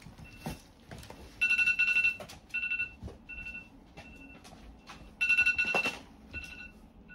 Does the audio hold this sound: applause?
no